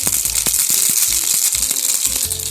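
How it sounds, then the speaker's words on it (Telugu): Mustard seeds and cumin crackle and sizzle loudly in hot oil for a dahi vada tempering, a dense hiss peppered with sharp popping bursts close by. "ఇప్పుడు పోపు పెట్టుకుందాం"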